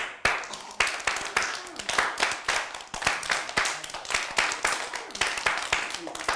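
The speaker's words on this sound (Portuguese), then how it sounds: "No circo também nós temos palmas assim," Sharp, evenly spaced hand claps in a steady beat, circus-style rhythmic clapping led in a group activity with children, fairly close and moderately loud, with faint voices between claps.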